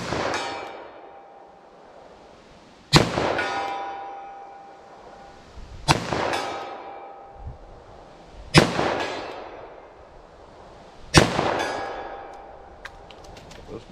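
Five sharp .44 Magnum handload gunshots ring out one by one into a ballistic gel target at an outdoor range. They come a few seconds apart, each a loud crack with a long ringing decay.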